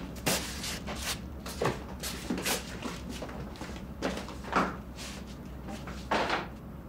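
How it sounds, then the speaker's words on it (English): Apartment door being opened, a series of soft knocks and thuds with a muffled creak-like handling sound at intervals over quiet room tone. "Well, open the door, at least."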